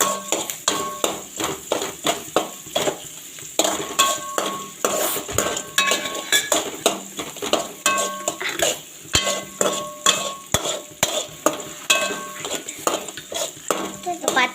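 Turmeric powder being stirred into a cooking pot, with rhythmic repeated clanks and scrapes of a spoon against the pot and a faint sizzle underneath.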